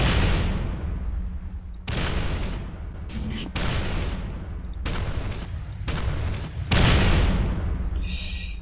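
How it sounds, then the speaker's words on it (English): A rocket launcher in Quake 4 fires in a fast series of loud, booming blasts, roughly six or seven shots spaced about a second apart, each with a sharp attack and a rumbling tail. "The rockets actually feel kind of faster in this game."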